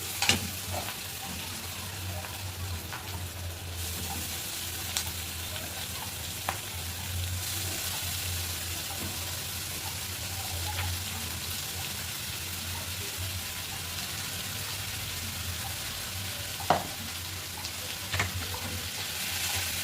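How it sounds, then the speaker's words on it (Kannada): Greens and dried red chillies fry in a pan with a continuous close sizzle, an occasional clink of a utensil, and a low background hum throughout. "ಇದು ಸ್ವಲ್ಪ ಫ್ರೈ ಆಗಲಿ. ಇದು ಒಣಗಿಮೆಣಸಿನ್ಕಾಯಿ."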